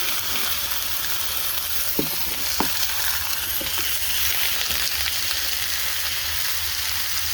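Eight burgers sizzle in an XL cast iron skillet, a steady broad frying hiss with a few faint clicks and pops of spatula contact, no voices.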